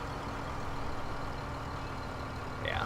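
Tractor engine in Farming Simulator 2015 running at a steady low rumble, a continuous drone that holds even from start to finish with a slight rise at the very end.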